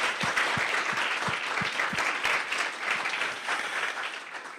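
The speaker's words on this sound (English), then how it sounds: "let's have a final round of applause for this wonderful panel" Audience applause for a conference panel at an anniversary celebration of the Artemis Accords, a dense steady wash of many hands clapping that holds throughout and eases slightly toward the end.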